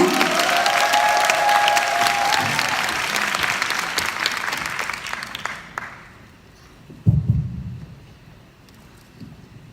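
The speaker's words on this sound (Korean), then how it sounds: "큰 박수로 환영해 주시기 바랍니다" A seminar audience claps loudly in a dense, steady burst to welcome a company president to the stage. The applause fades after about six seconds, followed by a brief thump and quieter room noise.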